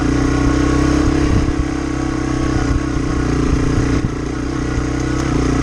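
A Yamaha TW200 motorcycle with balloon tires rides through muddy woods, its engine a loud, steady, close drone with a low throbbing rumble that holds fairly even throughout, with slight rises and dips in pitch.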